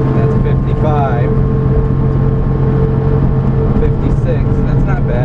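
A mini truck engine holding 5,100 RPM at about 55 mph gives a steady, loud in-cab drone with road noise, while people talk over it.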